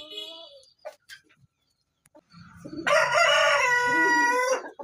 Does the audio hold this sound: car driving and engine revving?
no